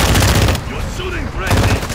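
Gunfire in the Call of Duty video game: rapid bursts of shots in two loud clusters at the start and end, separated by a quieter gap where faint voices and game sounds come through.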